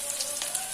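Garlic with cumin, mustard seeds and curry leaves frying in a pan for North Karnataka sambar, a steady soft crackling sizzle with small pops throughout.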